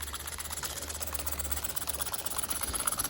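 A small Stuart S50 steam engine runs on boiler steam at just under 25 psi, giving a steady, fast mechanical chatter and hiss with a low continuous hum underneath, moderately close and without talk.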